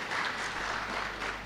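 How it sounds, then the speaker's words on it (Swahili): An audience at a forum on licensing and regulation applauds steadily, a dense wash of many hands clapping for about a second and a half with no voices on top. "Pige makofi jamani."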